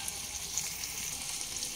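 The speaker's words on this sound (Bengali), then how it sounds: "প্রায় 2 মিনিট মিডিয়াম ফ্লেমে কষিয়ে নেওয়ার পর ভেজে রাখা চিংড়ি মাছগুলো সব দিয়ে দিলাম।" Fried prawns sizzle steadily in hot oil in a pan over medium flame, alongside jackfruit in a Bengali curry, making a soft, continuous, even crackle with no voices.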